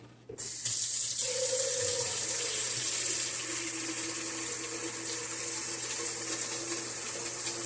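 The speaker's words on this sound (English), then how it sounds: "Add some water to it." Water runs from a tap into sugar for a distilling mash, a steady, loud, close hissing gush that starts abruptly and keeps going with a slight shift in pitch as the container fills.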